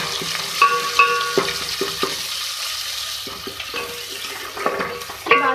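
Ginger-garlic paste sizzles in a pan for a potato and capsicum sabzi while a spoon scrapes and taps against the metal in irregular strokes. The frying stays loud and close, with no talking.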